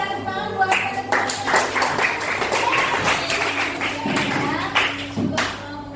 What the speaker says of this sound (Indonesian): terima kasih Nasa, tepuk tangan buat teman-teman.